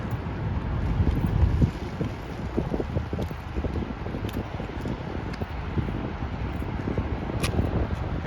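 Strong wind roars steadily on a rainy street walk through Lindenwood, Howard Beach, Queens, New York, buffeting the microphone in continuous close gusts, heaviest at the start, with no talking.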